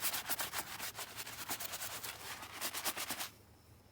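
A brush scrubs a suede Jordan sneaker in quick rhythmic back-and-forth strokes, a close, bristly rasping that runs steadily for a few seconds and then stops abruptly.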